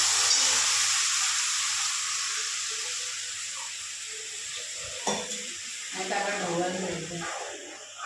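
Curd and besan mixture is poured into sizzling tempering, a loud hiss that fades gradually, then a splash and bubbling with a voice talking over it toward the end.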